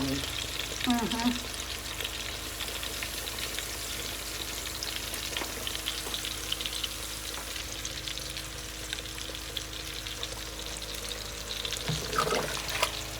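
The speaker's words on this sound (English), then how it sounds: "Let me just pour in there and make it continue to boil." A pot of meatball stew bubbles and sizzles steadily after water has been poured in, a dense continuous simmer with light stirring clinks, heard up close and without talk.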